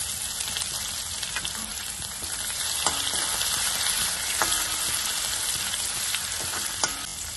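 Crushed garlic frying in oil in a pan for rasam, added after sautéed onions: a steady, close sizzle with occasional crackles and spatter pops throughout, no voices.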